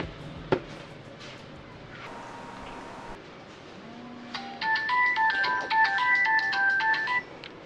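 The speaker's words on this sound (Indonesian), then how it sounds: "Gue coba telepon Bima." A telephone placing a call in an Indonesian action short film: a sharp click, a few electronic tones, then a bright repeating ringback or ring tone pattern pulsing loudly for several seconds before cutting off.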